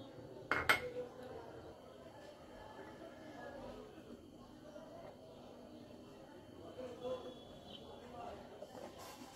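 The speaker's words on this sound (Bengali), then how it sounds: "বাকিটা আমি একটু গরম জল দিয়ে মিশিয়ে নেব।" A spoon clinks against a cup while mixing something with hot water: a brief, bright cluster of metallic clinks near the start, then only faint, soft stirring and background noise.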